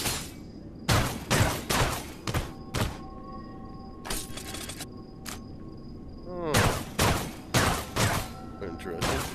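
Weapon alternate fire in the Hellsweeper VR video game, a run of sharp, loud bursts in two clusters with ringing tonal tails and quieter gaps between.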